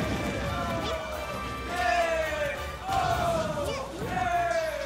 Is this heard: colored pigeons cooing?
no